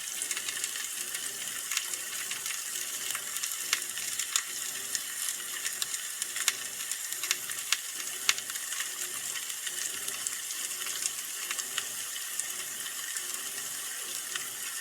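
An omelette frying in a pan gives a steady, close crackle and sizzle with scattered sharp pops, constant in level throughout and with no talking over it.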